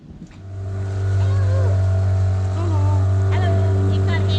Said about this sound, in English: You can't hear me over the outboard apparently.